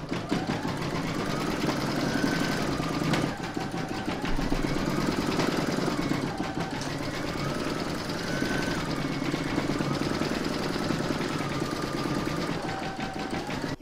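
An in-the-hoop embroidery machine stitches a pencil case, its needle chattering in a steady, fast mechanical rhythm with a whirring motor. The stitching pauses briefly every few seconds as the hoop moves, then resumes, close and continuous throughout.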